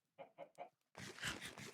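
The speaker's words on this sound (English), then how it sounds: "Come here, chicken." A Minecraft chicken in the GTNH modpack gives three short, evenly spaced clucks, followed by a louder, denser burst of squawking, close and alone without speech.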